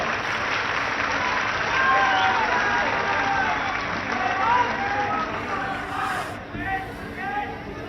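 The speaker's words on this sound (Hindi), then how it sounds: "जोरदार ताली बजाओ।" A large audience at a Chhattisgarh political rally applauds, a broad continuous wash of clapping and crowd noise that swells and then eases, with voices audible over it.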